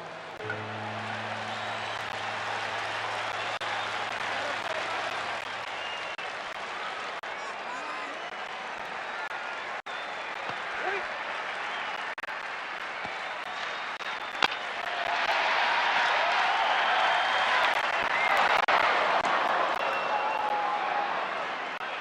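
A large baseball stadium crowd of over twenty-six thousand fans at a 1950s game applauds and murmurs in a broad, distant wash that swells louder near the end, with someone speaking over it.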